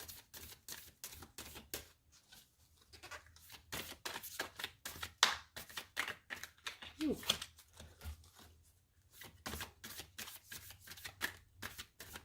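Tarot cards being shuffled by hand, a faint run of quick papery riffles and flicks in uneven bursts with short pauses, close up and quiet in a calm room.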